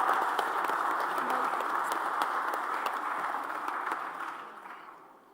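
Applause from the audience at the Tata Crucible Corporate Quiz Delhi cluster finals, a dense steady patter of many hands clapping that fades out near the end.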